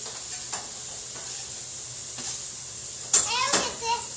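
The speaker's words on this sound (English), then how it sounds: "normally you put this in the pan and saute them till they're tender." Vegetables being sautéed in a pan for boeuf bourguignon, with a faint steady sizzle and a few soft stirring scrapes, and brief voices near the end.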